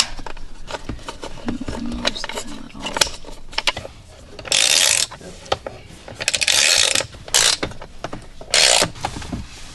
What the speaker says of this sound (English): I'm just pushing the screws into the plastic first